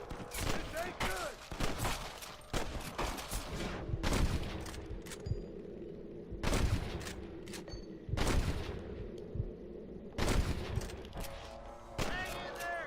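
Repeated gunfire bursts in a Red Dead Redemption shootout, loud cracking volleys at intervals with echoing tails, and a voice speaking between the shots.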